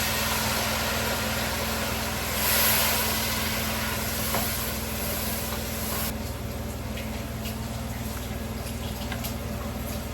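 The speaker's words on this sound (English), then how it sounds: "Now I want to go in with the meat," Goat meat drops into a hot pot of draw soup and sizzles steadily in a loud, broadband hiss that continues for several seconds, with a steady hum running underneath.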